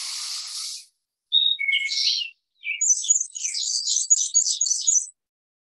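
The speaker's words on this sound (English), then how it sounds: "This is a black and white warbler." A black-and-white warbler sings a series of thin, high, squeaky repeated notes in a quick rhythm, clear and fairly close, following a brief hiss and a couple of short chirps, with no talking.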